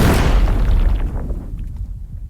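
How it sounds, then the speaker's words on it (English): Magic whoosh effect from a cinematic sound library, opening with a loud booming burst that rushes across the range and then decays into a thinner, crackling tail over a couple of seconds, alone with no voices. "Magic whoosh."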